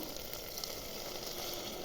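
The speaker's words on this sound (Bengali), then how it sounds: "এবার জল দিয়ে দেবো।" Rice, paneer and masala frying in a pan as water is added, giving a brief continuous hiss and sizzle, close and steady with no speech.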